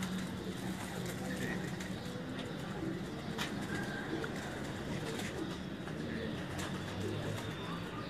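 Pigeons cooing at a pigeon keeper's loft, a low continuous murmur of coos under steady ambient noise, with faint chirps and occasional people talking in the background throughout.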